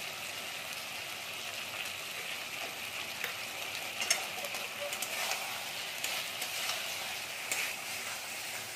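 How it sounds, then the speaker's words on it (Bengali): Vegetables for shukto sautéing in a pan, a continuous hissing sizzle punctuated by scraping stirs and occasional sharper crackles, close and fairly even throughout. "চলুন বন্ধুরা, আমরা সবজিটা ভালো করে কষিয়ে নিই"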